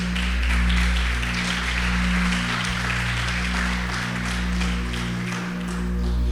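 A church congregation applauds during a sermon, a broad steady patter of clapping over a loud, low sustained organ or keyboard drone.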